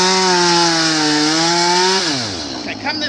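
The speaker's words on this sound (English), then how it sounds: "You got to be safety first with a chainsaw." A chainsaw runs loud and steady while a giant tree is cut up, its pitch holding even and then dropping sharply as the engine eases off near the end.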